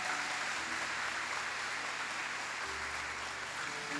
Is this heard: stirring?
no